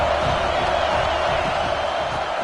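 A football stadium crowd at a college game roars on a third down, a steady, dense wash of cheering and noise throughout, loud and distant-sounding with no distinct voices.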